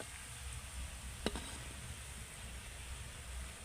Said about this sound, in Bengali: এবার উল্টে পাল্টে ভালো করে ভেজে নিতে হবে